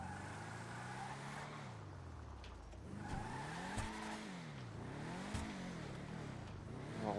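A car in the FiveM GTA roleplay game drives along, its engine tone rising and falling through gear changes with occasional tire squeal, steady and continuous throughout.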